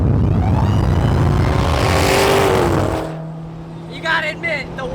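Corvette engine whining and accelerating hard in a street race, loud and close for about three seconds before dropping off to a low steady hum, with brief faint chatter near the end.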